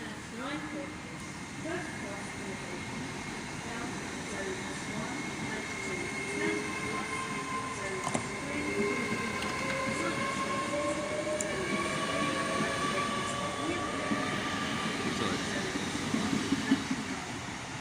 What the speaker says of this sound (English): on this platform now, there she is a Great Western Railway service